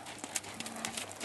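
Soft, rhythmic hoofbeats of a horse loping around an arena, faint and fairly distant, with little else audible.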